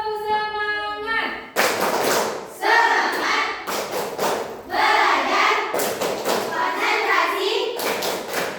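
A group of schoolchildren performs a rhythmic spirit clap, with sharp bursts of unison clapping and thumps alternating with chanted voices, after a voice briefly leads.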